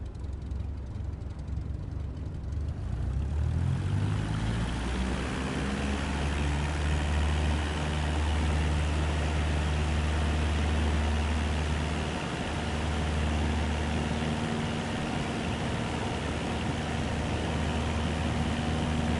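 Airliner engines spooling up for departure on the runway in Microsoft Flight Simulator 2024, a loud steady low roar with a rising tone that builds over the first few seconds and then holds, no talk.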